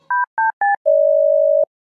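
A phone call being dialed: three short electronic beeps in quick succession, then one long steady tone, clean and isolated against silence.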